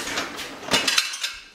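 An Apple Slim keyboard is pushed into a dishwasher rack, giving a few sharp clinks and rattles of plastic against the wire rack, close and loud, then fading out.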